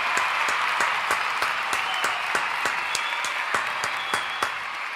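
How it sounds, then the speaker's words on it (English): Sustained applause with individual sharp claps standing out over a steady crowd wash, fairly close and continuous throughout, during a live WWE SmackDown review stream. "Another round of applause."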